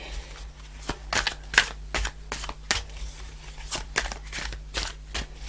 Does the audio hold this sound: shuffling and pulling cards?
yes